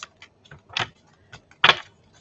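A tarot card deck is reshuffled up close, giving scattered light ticks and clicks of cards, then a louder riffling flutter near the end.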